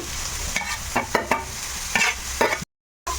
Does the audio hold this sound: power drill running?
no